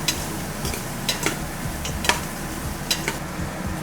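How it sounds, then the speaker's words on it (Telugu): Chopped onions and green chillies fry in a pan for biryani, a continuous close sizzle with scattered sharp ticks and scrapes of a spoon stirring. "ఆనియన్స్ వేస్తున్నాను ఆనియన్స్ బాగా ఏగాలి టైం పడుతుంది"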